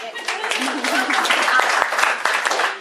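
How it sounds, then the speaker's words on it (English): An audience claps at a chamber of commerce coffee gathering with the lieutenant governor in Alva, a sustained patter of many hands with a voice speaking briefly over it. "We can clap, right? I love to clap."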